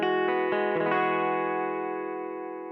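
A Fender Acoustasonic Strat guitar shaped by high- and low-pass filtering, a few quick strummed or plucked chords ringing out and decaying smoothly, clear and alone.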